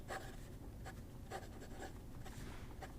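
Platinum 3776 fountain pen with a medium nib scratching across paper, a close, quiet run of short strokes and ticks with slight pauses between letters.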